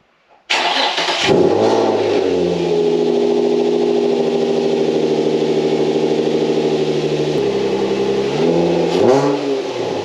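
Nissan 350Z engine cranks and fires up close by, settles into a loud idle, then rises and falls through a couple of revs before dropping back, with no talk.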